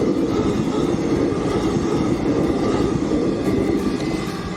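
A train rolls past a level crossing with automatic gates, a loud, steady rumble with clattering wheel noise filling the whole stretch, close by and without talk.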